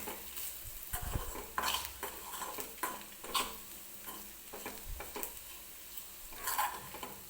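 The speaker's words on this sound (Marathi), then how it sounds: "तर हे सुके मसाले टाकल्यानंतर व्यवस्थित आपल्याला कांद्यासोबत 1-2 मिनिटे तेलामध्ये भाजून घ्यायचे आहे" Dry spices and onion roast in oil in a pan, a soft sizzle under repeated scraping and tapping stirs of a spoon against the metal. The sound is quiet, close and irregular, with no talking.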